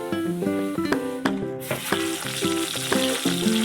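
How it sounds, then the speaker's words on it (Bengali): Pieces of rohu fish frying in mustard oil in a wok, a close, steady sizzle carrying on throughout under a bright melodic music track with plucked, repeating notes. "এবার মাছগুলো ভেজে নেব।"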